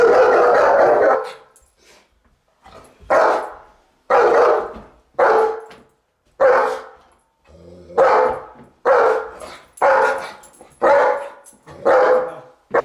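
A dog barks aggressively in a long series of loud, close bursts, about ten harsh barks spaced roughly a second apart with short gaps between them, and low growling can be heard in the pauses.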